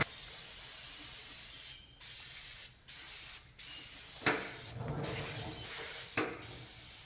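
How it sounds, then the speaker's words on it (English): A hand sprayer mists tar remover onto the paint of a 1968 Camaro in a few short, sharp hissing bursts, with soft rubbing and handling noises between them. "So I'll just spray a little bit on the area,"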